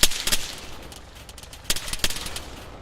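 Gunfire in the video game Arma 3: several sharp shots crack in quick bursts, a tight cluster at the start and a few more spaced reports later, fairly loud and close with no talk.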